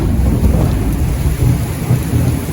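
Thunderstorm with heavy rain in Pattaya, Thailand: a steady, loud downpour roars throughout, with deep low rumbles of thunder rolling underneath and no voices.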